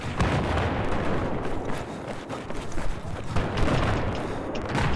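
Dense gunfire and booming explosions from a Battlefield 4 close-quarters multiplayer match in Shanghai, filling the whole stretch as continuous loud battle noise with overlapping shots.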